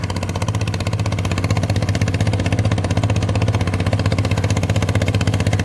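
A walking tractor ploughing a rice field runs in second gear, its single engine chugging loud and close in an even, rapid rhythm without a break.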